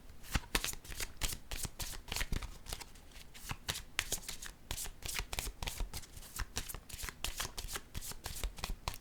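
A deck of cards being shuffled and a pink card drawn, with quick, rhythmic riffling snaps repeating steadily throughout, close and fairly loud with no talk.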